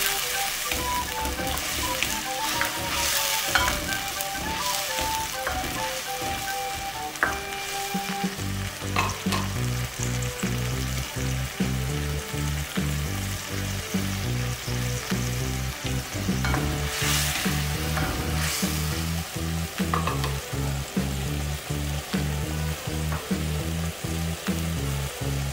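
Onion-tomato masala for sarson ka saag cooks in a pan, a long, even sizzle with occasional stirring under continuous background music and no speech.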